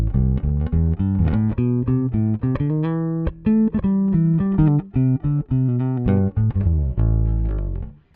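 Precision bass fitted with new chrome flatwound strings, played alone in a busy, rhythmic line of round, smooth low notes, loud and close with no talking.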